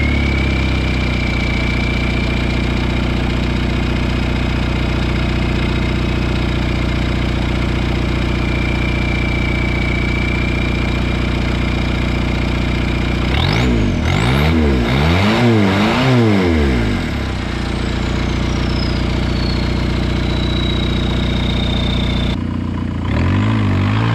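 Rebuilt Boom trike with an engine idling steadily up close, then revved hard in several quick rising bursts before dropping back and cutting off near the end.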